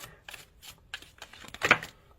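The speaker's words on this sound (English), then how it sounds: "These cards are so difficult to shuffle." Tarot cards being shuffled by hand, a series of soft riffling bursts with a louder, sharper flurry near the end, close and alone with no talk.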